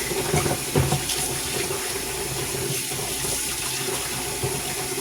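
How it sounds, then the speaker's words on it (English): A spoon is rinsed under a running kitchen tap, a steady close splash and hiss of water pouring into the sink with a few brief knocks near the start, no talking. "And rinse out my spoon."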